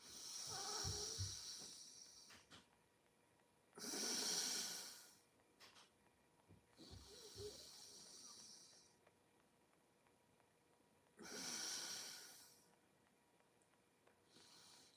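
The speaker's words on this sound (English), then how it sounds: "breathe in, hold as long as you can and exhale down" Slow qigong breathing: three long, breathy hissing inhales or exhales, each lasting about a second or two, with pauses of held breath between them. The breaths are close and fairly quiet, set against a soft background hum.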